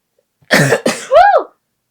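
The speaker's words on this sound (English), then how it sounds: "Excuse me. Sneeze." A single sneeze, close and fairly loud, made by a woman in the middle of a makeup session: a sharp intake, a burst, then a short trailing voiced tail, all within about one second in a quiet room.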